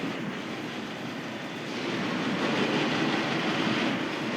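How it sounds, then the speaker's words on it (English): A train rolls past in a railway video game, its rumble and clatter rising partway through and holding steady at moderate loudness, with no talk over it. "there we got a train"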